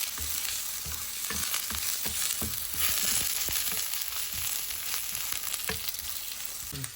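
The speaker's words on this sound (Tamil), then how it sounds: "3 தேக்கரண்டி வெந்தயம், 1 தேக்கரண்டி பெருஞ்சீரகம், கருவேப்பிலை ரொம்ப சேர்த்து அதையும் நாங்கள் இதோட நல்லா வதக்குவோம்" Fenugreek, fennel seeds and curry leaves sauté in hot oil in a pan for a Jaffna-style drumstick kulambu. A steady, close sizzle runs throughout, broken by frequent clicks and scrapes of stirring.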